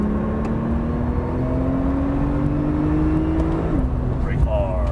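A Porsche 911 Turbo accelerating hard on a race track, heard from inside as a loud steady engine drone rising in pitch, with a brief shift near the end and someone talking over it.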